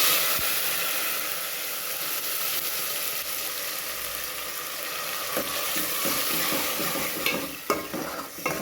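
Boiled spinach tipped into hot tempering oil for sirikkeerai kuzhambu, a continuous bright sizzle and hiss while it is stirred, with scraping stirs and a few sharper spatters toward the end.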